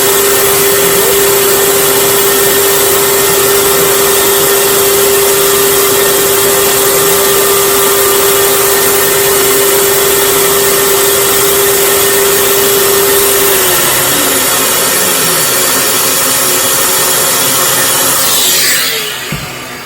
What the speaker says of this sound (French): j'ai défoncé une sorte de petit rectangle à l'intérieur de ma plaque de MDF